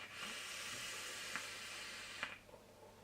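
A Vandy Vape Iconic dripper gives off a steady, soft hiss of vapour for about two seconds, quiet and close, with a few small clicks as it tapers off.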